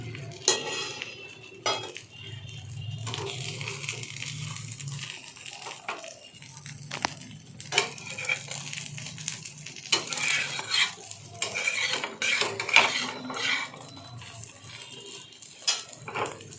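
An egg frying simply in a pan at home: a soft sizzle under repeated metallic clinks and scrapes of a utensil against cookware, close and uneven.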